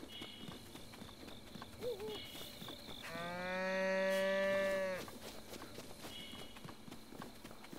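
A cow gives one long, loud moo lasting about two seconds in the video game Breath of the Wild, set against soft hoof clip-clops and faint ambient farm sounds.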